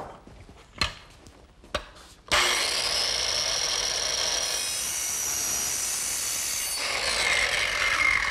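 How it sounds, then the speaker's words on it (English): A handsaw cuts through a wooden floor joist for a playhouse build, starting after a few knocks and setting into a steady close rasping stroke for several seconds. "The first thing I want to do is cut the floor joist."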